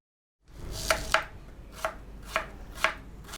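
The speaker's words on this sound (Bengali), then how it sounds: "2টো পেঁয়াজকে এভাবে স্লাইস করে কেটে নিচ্ছি।" Two onions are sliced with a knife on a board, giving five or six distinct close cutting strokes at a steady, unhurried pace against a faint background hum.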